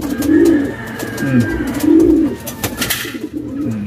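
Pigeons in a breeding loft coo in loud, close, rolling phrases, several repeated calls with faint chirps and light background noise.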